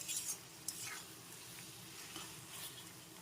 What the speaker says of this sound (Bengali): এখন সবকিছু একসাথে আবার কিছুক্ষণ নেড়ে চেড়ে নিতে হবে